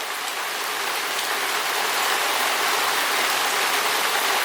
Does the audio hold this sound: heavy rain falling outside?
yes